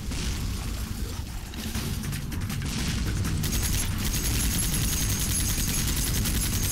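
Rapid gunfire from the video game Dreamkiller, a dense, continuous barrage of shots and booms filling the whole stretch at steady loudness, with no talking over it.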